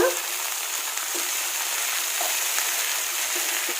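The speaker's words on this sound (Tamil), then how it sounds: "கோவக்காய் ஆட் பண்ணி மிக்ஸ் பண்ணிக்கோங்க" Ivy gourd (kovakkai) fries in a pan, giving a steady close sizzle with occasional soft stirring knocks and no talking.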